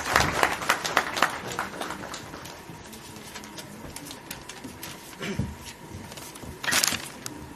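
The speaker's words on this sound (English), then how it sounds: "Everyone, please give a huge round of applause." An audience applauds at a national convention of electronics and telecommunication engineers, a moderate spread of clapping that is louder at the start, thins out, then swells briefly again near the end.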